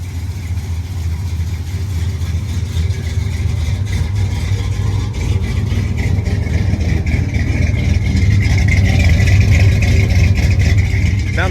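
A 1979 Dodge Power Wagon engine runs steadily at idle in park, a deep, close, continuous rumble that swells slightly toward the end.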